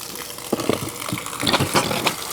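Water gushing from an Aquor house hydrant outdoor faucet with no hose attached, a steady splashing rush with uneven spurts, close and fairly loud, no talk.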